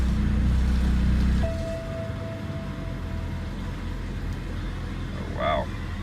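An auction car with a nasty vibration idles loudly and steadily at first, then its engine note drops as it is shifted into drive, continuing as a low rumble with a brief chime-like tone near the end; no talk is heard.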